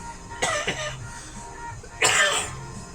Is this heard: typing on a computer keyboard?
no